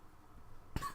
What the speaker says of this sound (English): gotta cough now.